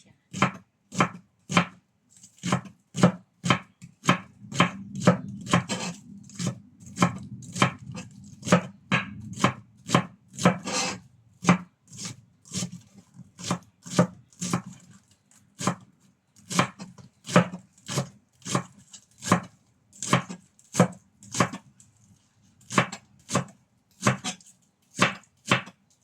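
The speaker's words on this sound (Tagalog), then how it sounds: "Cut lang natin siya ng pino. Pino siya guys." Knife finely chopping spring onion on a cutting board, a long run of crisp, evenly spaced taps close by, briefly quickening into a denser flurry midway before settling back into a steady rhythm, no voices.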